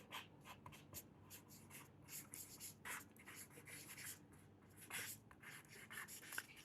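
A name written on paper in quick, scratchy pen strokes, a close, faint run of brushing and rubbing sounds in short bursts with brief pauses between them.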